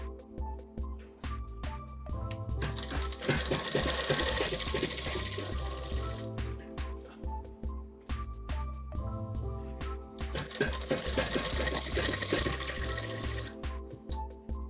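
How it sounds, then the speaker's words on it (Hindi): Sewing machine stitching a straight seam on a crop top, running in two long steady whirring bursts with rhythmic mechanical clatter, separated by brief pauses, close and fairly quiet with no talking. "अब यहाँ पे बिल्कुल सीधी सिलाई लगानी है"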